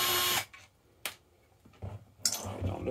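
A drill backing screws out of the back plate of a Thrustmaster T16000 throttle, in three short whirring bursts separated by quiet pauses and faint handling noises.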